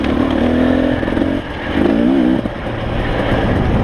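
A 450 enduro dirt bike ridden over rocks, its engine loud and close, revving up and down with clattering and scraping from the rough ground.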